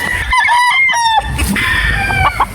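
Kelso gamecocks in a spacious backyard poultry yard crow loudly and close by, one long cock-a-doodle-doo followed by clucking and further crowing.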